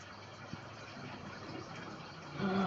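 A motorbike engine in the Roblox video game hums in a steady, low idle, fairly faint and even, with a slight rise at the end and no talking.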